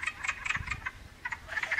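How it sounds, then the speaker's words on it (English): Wood frogs chorusing from a vernal pool in spring, a dense run of short clucking, duck-like croaks repeating in quick overlapping bursts, moderately close and steady with no talk. "So many are gathering and calling at the same time that they're sometimes called an army of frogs."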